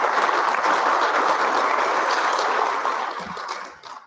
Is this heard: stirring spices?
no